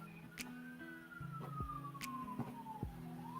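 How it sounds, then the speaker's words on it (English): A fire department or ambulance siren wails at a distance outside a pub, a faint, slowly gliding tone under scattered clinks and knocks of the surrounding room. "I hear alarm. Oh. Yeah, it's the fire department ambulances."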